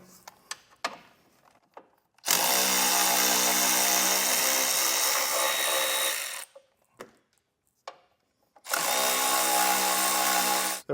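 Power drill boring holes into the steel frame of a 2016 Kia Soul during a base plate install, two loud sustained whirring bursts separated by quieter clicks and handling noises.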